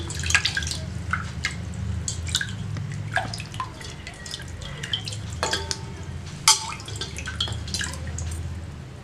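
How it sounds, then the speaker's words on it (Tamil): Water poured over an ice pop mold trickles and drips steadily nearby, with small splashes and clinks over a low background hum. "இல்லைனா இப்படி தண்ணி ஊத்துங்க."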